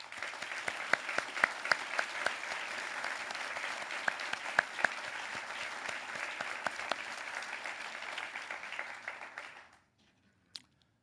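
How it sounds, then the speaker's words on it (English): An audience applauds steadily at an anniversary celebration honoring a former Secretary and an institute, with dense sustained clapping for about nine seconds before it stops abruptly. "I would love you to join me again in applauding this remarkable Team Riley"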